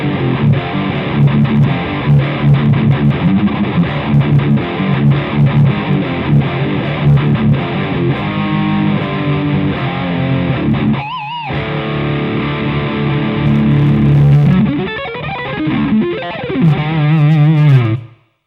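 A heavily distorted electric guitar, a Wolfgang tuned to drop D through a Rothwell Switchblade distortion pedal, plays chugging riffs and sustained chords, loud and close, with a brief pause midway before ringing out and cutting off.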